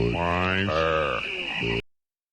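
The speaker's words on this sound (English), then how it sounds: "It's literally frogs repeating the line over and over again" Frogs in a Budweiser beer commercial give deep, drawn-out, buzzy croaks in a close sequence of three or four calls. The sound then cuts off abruptly into silence.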